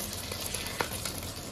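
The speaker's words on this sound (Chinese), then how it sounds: "把蛋液呢 煎成形，鼓起泡" Beaten eggs fry in a wok with a steady, close sizzle and faint stirring scrapes throughout.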